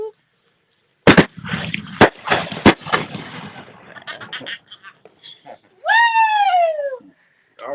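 Fireworks go off outdoors as three sharp, loud bangs in quick succession, then crackling bursts. Voices shout and cheer among them, and one long whoop follows.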